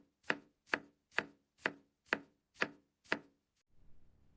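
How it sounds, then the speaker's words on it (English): Seven crisp knife strikes chop vegetables on a cutting board in a steady, evenly spaced rhythm, close and clear with no talk, followed by faint soft rustling as the chopping stops. "I cut the vegetables."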